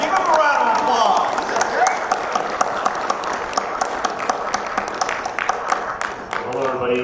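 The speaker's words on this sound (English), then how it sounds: "give him a round of applause" A comic con audience at a Power Rangers Q&A panel in Albuquerque gives a round of applause, steady and fairly loud with sharp individual claps scattered through, beginning over fading talk and tapering near the end.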